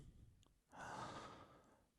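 A slow, deep breath fills the lungs during a guided breathing meditation, a soft airy rush swelling after a brief quiet pause and holding steady for about a second before easing off, close and gentle with no talking.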